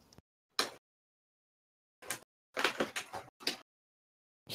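A door opens in a video game with sharp mechanical bursts, one brief hit, then a cluster of clipped, clattering pulses and a final thud, fairly close and with no talk over it.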